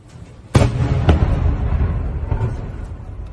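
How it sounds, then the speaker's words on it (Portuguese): A heavy distant boom erupts from a secondary detonation after a HIMARS strike, then a second thud follows and a long rumbling roll trails off, with faint cracks scattered through the decay. "Dá para ouvir já a detonação secundária"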